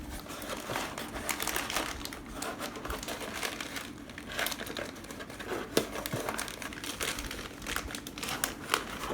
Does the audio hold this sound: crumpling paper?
yes